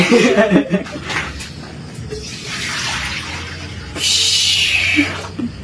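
Water from a tap runs into a pot for cooking spaghetti, the hiss of the stream swelling and fading in bursts close by, with brief laughter at the start.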